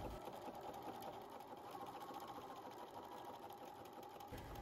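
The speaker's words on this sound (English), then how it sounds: "Stitch around the curves gently, doing your best not to stretch the fabric as you sew." Sewing machine running steadily as it stitches fabric gloves around curves, a continuous close whirring hum with no pauses and no talking.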